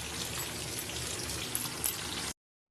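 Water poured into a pan of cabbage cooking on a home kitchen stove, a steady broadband rush of pouring liquid lasting about two seconds before it cuts off, close and moderately loud with no talking.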